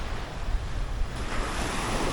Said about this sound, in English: Here is the ocean.